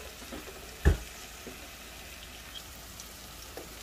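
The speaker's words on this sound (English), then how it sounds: "So those onions and garlics are cooking away" Onions and garlic fry in a pan with a soft, steady sizzle and one sharp knock of a utensil, fairly faint and close, with no talking.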